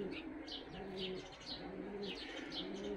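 Tumbler pigeons coo close by in repeated soft, throaty rolling calls that overlap in a loose rhythm, mixed with light chirps over a low background hum.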